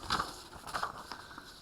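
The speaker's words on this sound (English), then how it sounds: "Now I'm going to cut this out with some scissors." Scissors snip through thin tracing paper at close range, with a few quiet crisp cuts and faint crinkling against a soft background.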